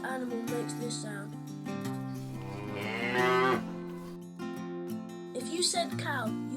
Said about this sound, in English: If you said cow, you are correct.